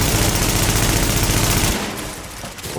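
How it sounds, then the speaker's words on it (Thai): Dense, continuous rapid gunfire in the video game Tom Clancy's The Division fills the first couple of seconds, loud and close, then cuts to a quieter, thinner burst of shots. "เสียงปืนดังสนั่น"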